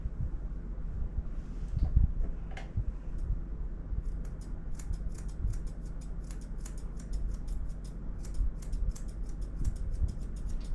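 Grooming scissors trimming a toy poodle's fur, a rapid run of fine metallic snips close to the microphone over low rumbling background noise, starting a few seconds in and continuing steadily.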